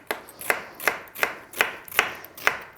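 A knife chops vegetables for a melon panzanella salad, landing six evenly spaced, crisp cuts against a board in a steady rhythm, close and clear with no talk.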